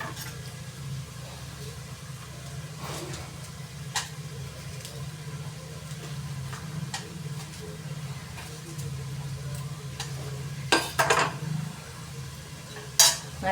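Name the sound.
stirring ginger garlic paste and green chilies in a pan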